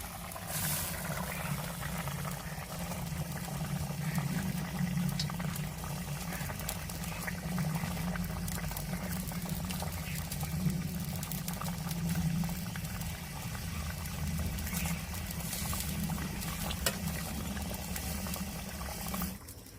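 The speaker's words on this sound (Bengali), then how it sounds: "ঝোলটা ফুটে গেছে এবার মাছটা দিয়ে দেবো" Curry gravy for a pomfret (rupchanda) fish dish boils in a pot: a continuous, close, lively bubbling and simmering that runs unbroken throughout, with no voices.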